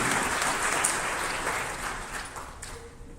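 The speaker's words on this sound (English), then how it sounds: "big round of applause for him" An audience gives a round of applause at an orientation program, a dense wash of clapping that stays strong and then gradually thins and fades toward the end.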